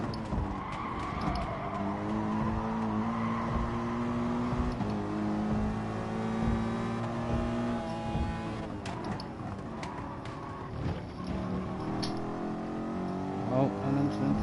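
A McLaren race car in Gran Turismo races with a steady high engine whine, shifting pitch and tire squeals. Other cars are close by, and a voice talks over it.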